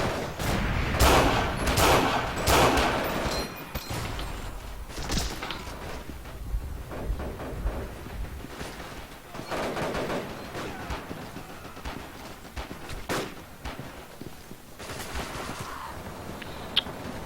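Gunfire in the World War II shooter game Forgotten Hope 2, including a captured rifle, fills the battle: repeated sharp shots and bursts, some loud and near, others distant, scattered irregularly across a busy soundscape without talk.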